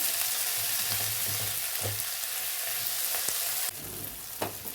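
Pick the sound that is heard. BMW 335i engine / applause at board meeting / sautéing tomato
sautéing tomato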